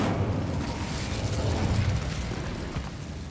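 The Incendio fire spell in Hogwarts Legacy makes a steady roaring whoosh of flame, a dense low rumble that holds for several seconds and tapers slightly at the end.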